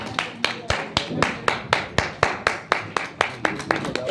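Clapping from an audience at an RCM business marketing event as leaders come on stage, a rhythmic series of sharp, evenly spaced claps about twice per second, fairly close, with some speech underneath.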